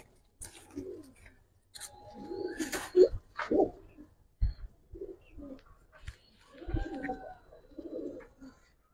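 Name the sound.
pigeons cooing, Giribaz and coloured pigeons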